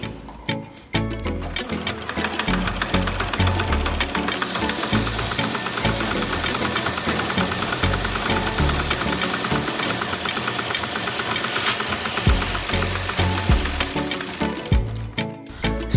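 A sewing machine runs fast and steady while winding thread onto a bobbin, a loud continuous whirring buzz with a bright high whine, starting and stopping with a few clicks at each end.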